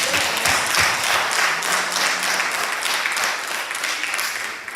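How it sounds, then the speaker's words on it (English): A church congregation claps together in a loud, dense burst that holds steadily for several seconds and then begins to fade at the end, close and filling the room. "Come on, clap for chapter 41."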